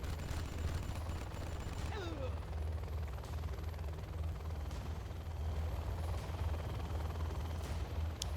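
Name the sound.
Helix helicopter firing on Toxin rebels, video game Zero Hour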